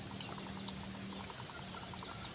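Constant trickling and splashing of spring water flowing through a bamboo spout, close up, with a faint bird call in the background.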